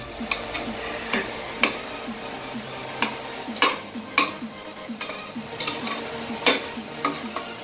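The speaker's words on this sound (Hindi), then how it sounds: "ये जो है कंटिन्यूसली इसको स्टर कर रहे हैं और ये गोल्डन ब्राउन होने तक इसको थोड़ा फ्राई करना है धीमी आंच पे।" Onion masala for a Ghati-style chicken sukka fries in a pan over low heat while a spoon stirs it continuously, giving steady close sizzling broken by regular scraping clinks against the pan, with no talking.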